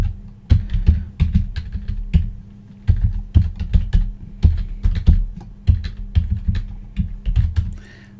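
Steady typing on a computer keyboard while a link URL is entered in an editor, with close, crisp key clicks in quick irregular runs and short pauses, no voices.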